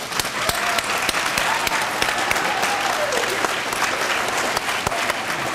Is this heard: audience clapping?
yes